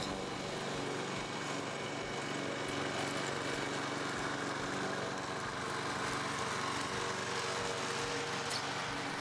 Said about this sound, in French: J'actionne le levier jaune et je commence à tondre